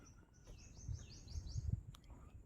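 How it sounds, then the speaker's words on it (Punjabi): Birds sing in a quiet nature area beyond Sukhna Lake, a faint, distant series of quick repeated chirping notes over a low rustling outdoor background. "ਤੁਸੀਂ ਇੱਕ ਵਾਰ ਇੱਥੋਂ ਦੇ ਪੰਛੀਆਂ ਦੀ ਤੇ ਕੁਦਰਤ ਦੀ ਇੱਕ ਵਾਰ ਆਵਾਜ਼ ਸੁਣੋ ਇੱਥੋਂ"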